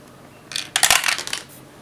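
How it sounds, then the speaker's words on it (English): Plastic dice clatter down through a D&D dice tower, a burst of close, bright rattling clicks and tumbles lasting about a second before settling. "This is my usual dice that I use when I go playing D&D. And it also acts as a dice tower."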